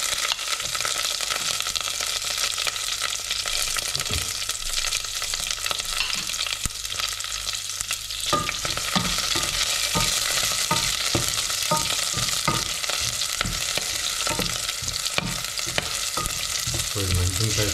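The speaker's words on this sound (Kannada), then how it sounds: "ಹಾಗೆ ಸ್ವಲ್ಪ ಮೆಣಸಿನ್ಕಾಯಿನ ಬಾಡಿಸ್ಕೊಬೋಣ." Chana dal and green chilies sizzle and crackle in a hot pan, with stirring scrapes that grow busier partway through, close and continuous with no talking.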